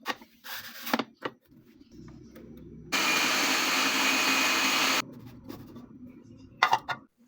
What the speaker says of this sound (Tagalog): Ngayon nilagay ko na ito sa food processor.